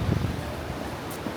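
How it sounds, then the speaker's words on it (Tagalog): Strong wind gusting along a slippery roadside on the coast at Yehliu, Taiwan, rushing and buffeting against the microphone in a steady roar with low rumbling bursts. "Grabe ang hangin."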